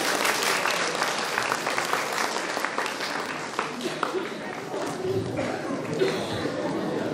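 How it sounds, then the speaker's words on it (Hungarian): At a primary school carnival, an audience of children and parents applauds a pupil in a Wednesday costume, with steady crowd clapping mixed with chatter and light laughter throughout. "Egy nagy tapsot ő is megérdemel."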